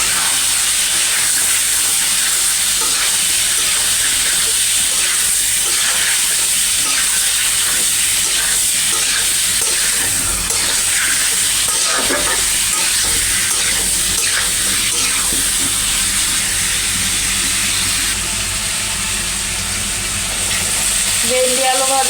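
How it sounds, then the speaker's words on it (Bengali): Meat lightly frying in a pan for a home-cooked Bangla meal, giving a steady loud sizzle and hiss throughout with small crackling bursts and a brief clatter near the end. "এখানে আমি মাংসগুলো দিয়ে দিচ্ছি, এটাকে একটু হালকা করে ভাজা করবো আর কি"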